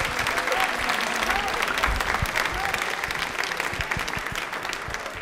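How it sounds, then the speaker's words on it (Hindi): Sustained audience applause at a quiz event marking Birsa Munda's birth anniversary and Tribal Pride Day, steady and dense throughout, with faint voices murmuring underneath. "तालियां बजा दीजिए इनके लिए"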